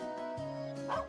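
A dog in the Trails of Cold Steel video game gives a short, faint whimpering bark, a single brief yip over a steady musical backdrop.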